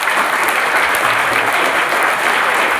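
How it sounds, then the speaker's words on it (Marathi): A school crowd gives loud, continuous applause for Class 10 students at a Teacher's Day event at Shri Shavarsiddha Prashala in Achegaon. The dense clapping stays steady and close throughout, with no break. "त्यांच्यासाठी एकदा जोरदार टाळ्या वाजवा."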